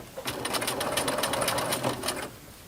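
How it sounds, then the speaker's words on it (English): A sewing machine stitches a homemade fabric face mask, a close, fast mechanical whirr running steadily for about two seconds before stopping. "just start sewing"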